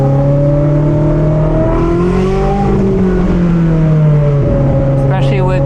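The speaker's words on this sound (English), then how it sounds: "Speciale is the highest screaming, most whole sounding V8" Ferrari 458 Speciale V8 revving loud and close, its steady high-pitched engine note rising and falling over several seconds with sweeping harmonics and faint talk mixed in.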